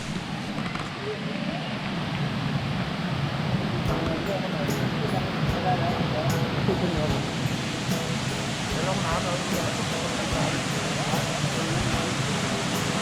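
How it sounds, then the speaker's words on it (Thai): Rushing water of the seventh and final tier of Huai Mae Khamin waterfall, Lom Dao, at its headwaters in Khuean Srinagarind National Park, Kanchanaburi: a steady, broadband roar, close and continuous throughout. "น้ำตกห้วยแม่ขมิ้นชั้นที่7นะคะ ชื่อว่าลมดาว"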